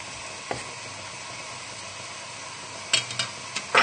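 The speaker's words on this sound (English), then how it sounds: "So just give it a little stir around, and it's just gently cooking them." Shallots sizzle softly and steadily in a pan, with a few brief scrapes and clinks of a utensil stirring through them.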